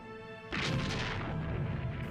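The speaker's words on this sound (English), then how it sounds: "These are falconets, light, breech-loading artillery." A light breech-loading falconet cannon fires: after half a second of quiet, a sudden loud, broad blast erupts and rolls on as a dense, rumbling roar for over a second, close and alone.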